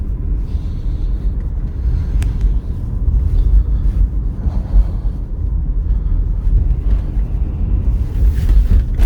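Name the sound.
car engine running during drive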